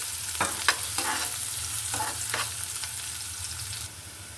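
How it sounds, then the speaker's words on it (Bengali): Chopped onion frying with garlic and a dried chilli in a pan, with a constant hissing sizzle and several sharp scraping stirs of a spatula against the metal, close with no voices. "এখানে দিয়ে দিচ্ছি বেশ কিছু পেঁয়াজ কুচি এখানে আমি এটা ভালো করে ভেজে নেবো"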